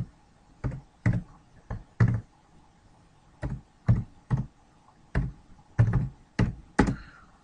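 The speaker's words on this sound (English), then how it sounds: "I'm going to type error document" Typing on a computer keyboard, heard close up as a dozen or so distinct clacking keystrokes in short irregular bursts with pauses between, against a quiet background and no talking.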